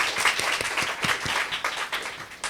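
An audience applauds at an evening poetry reading, a dense wash of many hands clapping steadily and fairly close for a couple of seconds, with no talk over it.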